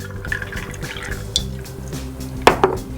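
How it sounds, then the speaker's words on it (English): A quick stir of a Kentucky Pumpkin Mule topped with alcoholic ginger beer in a glass, with a few light clinks and a couple of sharper taps of spoon on glass near the end, close and without speech. "Give that a quick stir."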